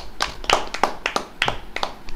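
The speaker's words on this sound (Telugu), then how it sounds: "క్లాప్స్ కొట్టండి." Children clap at a Sunday school session, about a dozen quick, uneven hand claps close by in a loose, scattered rhythm with no voices.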